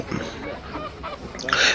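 Ducks for sale at a market in Roing, Arunachal Pradesh give honking, goose-like calls amid background market noise, with a louder burst of calls near the end.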